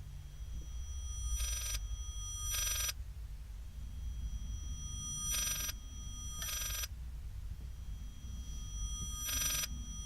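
A telephone ring played in reverse in the horror game Layers of Fear comes as paired bursts of bright, harsh ringing, three pairs in all, over a low droning background.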